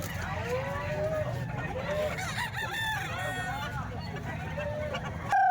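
Several roosters crow one after another at a butcher's market, their long wavering calls rising over a constant low hum of crowd and livestock noise, with a sharper crow close by at the end.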